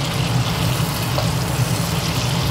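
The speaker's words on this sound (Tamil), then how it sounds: "வெண்ணெய் உருகிற சத்தம் பார்த்தீங்களா?" Butter melting in a hot pan, a steady soft sizzle and crackle with a low bubbling hiss running evenly throughout, close and continuous with no voices.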